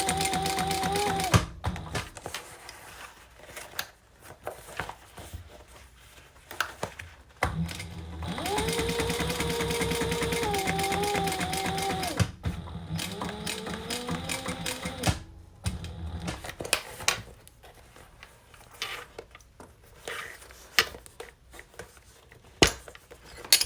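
A sewing machine stitches a double-sided leather bag seam in bursts, running steadily for several seconds, pausing, then starting again, close and fairly loud with brief stops at the seam allowance.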